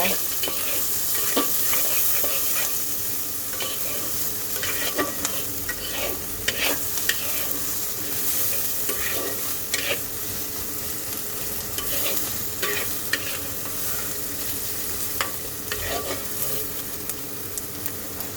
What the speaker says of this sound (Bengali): এইবার আমি পেঁয়াজটাকে সুন্দর করে ভেজে নেব